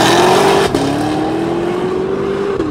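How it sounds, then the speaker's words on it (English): A Cadillac accelerating hard off the line with wheel spin, its engine note rising steadily and loud, with a brief break in the tone as it shifts, up close and alone. "That car has more wheel spin off the line than the Hellcat does."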